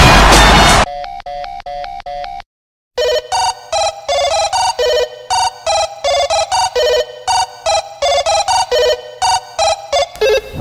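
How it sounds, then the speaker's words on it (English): A telephone ringtone plays loud and close in a bright electronic melody of repeated short tones after a brief burst of noise and a pause, sounding alone with no speech. "Phone's ringing."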